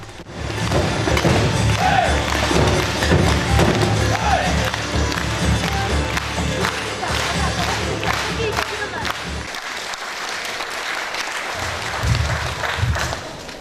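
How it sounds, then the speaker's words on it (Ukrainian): Long, dense applause from a crowd of townspeople at an outdoor city day celebration, sustained loud clapping with scattered thuds and cheers, briefly dipping in the low end before swelling again. "Тривалими оплесками зустріли городяни очільника свого міста Сабадаша Володимира Івановича."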